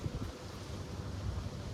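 Wind blows outdoors in a low, steady rush buffeting the microphone, with soft gusting swells and no voices.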